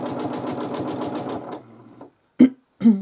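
A sewing machine hums with a rapid, steady stitch rhythm close by during free-motion swirl quilting, stops after about a second and a half, and then a voice speaks briefly twice.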